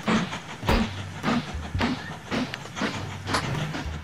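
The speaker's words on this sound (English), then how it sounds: "That train's got me backing up." A train running in the video game Mashinky, with a rhythmic clickety-clack of wheels over rail joints repeating roughly every half second, a low rumble underneath and some hiss, fairly close and without talk.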